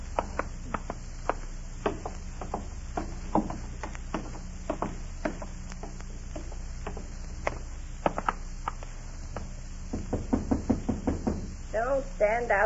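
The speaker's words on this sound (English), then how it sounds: "Don't stand out there and knock." Knocking on a door in an old-time radio drama: a long, steady run of sharp, dry raps repeating at a brisk pace, heard near and clear, and voices join toward the end.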